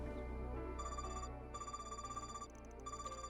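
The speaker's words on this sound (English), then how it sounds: "I don't recognize this ringtone" A phone ringtone sounds in the Trails video game, a bright electronic melody of repeating tones that pauses briefly and then plays again over a soft musical backdrop.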